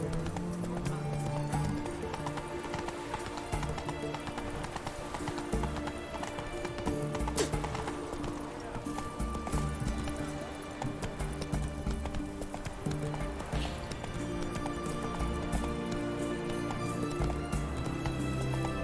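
Steady clip-clop of horse hooves in the video game The Witcher 3: Hearts of Stone, over a dense, busy background with music-like tones, the rhythm continuous and fairly loud throughout.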